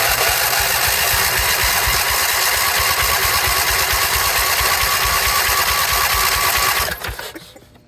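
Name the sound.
Husqvarna yard tractor engine running after 10 years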